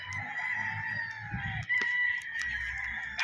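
Roosters, including white Kelsos, crow on a busy farm, a drawn-out crow ringing close over other fowl clucking and calling in the background.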